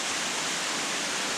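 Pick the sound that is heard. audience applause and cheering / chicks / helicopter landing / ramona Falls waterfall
ramona Falls waterfall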